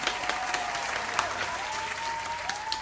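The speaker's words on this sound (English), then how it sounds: "Church, can we get a round of applause for that?" A church congregation gives a round of applause, a steady wash of many hands clapping at moderate volume, with a faint tonal hum running beneath.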